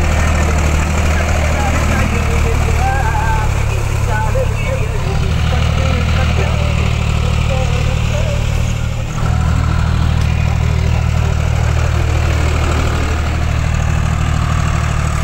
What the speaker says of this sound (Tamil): மரவள்ளி பயிர்களை டிராக்டர் கொண்டு அழித்த விவசாயிகள்